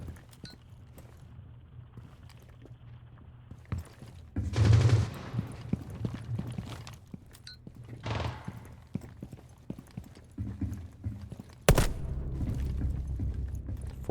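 Gunfire in a tactical shooter game ending in a headshot kill, heard as a few sharp broadband bursts, the loudest near the end, over quiet footsteps and room ambience.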